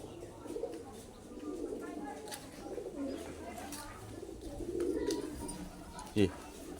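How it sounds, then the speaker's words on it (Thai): Pigeons cooing softly at a fish park in Yasothon, with low murmuring calls under faint background chatter and a brief knock near the end. "นกมันก็มากินคือกันพี่น้อง"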